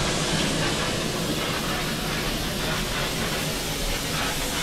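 A steam train on the Tenterden to Bodiam heritage railway makes a broad, dense rumbling hiss that stays loud and steady throughout, heard from on board.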